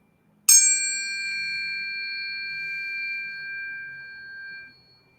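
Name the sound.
chime rung to start a tarot reading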